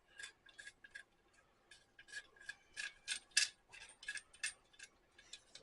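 A survival shovel's handle, fitted with a small compass at its end, being screwed together: a series of short dry rasping and ticking turns in uneven bursts, close and fairly quiet, with no voices.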